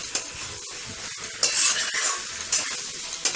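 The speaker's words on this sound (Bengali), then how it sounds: "এবার আমি এতে সেদ্ধ করে রাখা আলুগুলো দিয়ে দেব, দিয়ে কিছুক্ষণ নাড়বো চাড়বো যাতে আলুগুলোর মধ্যে একটু মশলা ঢোকে" Boiled potatoes are stirred through frying spices for aloo dum, giving repeated scraping strokes of a spatula against the pan over a steady sizzle, close and fairly loud.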